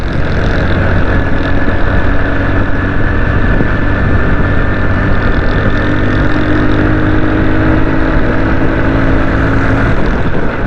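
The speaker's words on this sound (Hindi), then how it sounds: "अभी मैंने मोटरसाइकिल की स्पीड तेज़ इसलिए की है" A motorcycle speeds up through city traffic on Shahra-e-Faisal in Karachi. Its engine drones loud and steady throughout, blended with constant wind rush against the microphone.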